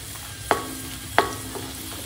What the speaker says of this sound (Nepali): मेरो लसुन चाहिँ गोल्डन ब्राउन भइसकेको छ। यसमा अब खुर्सानी पनि हालौँ।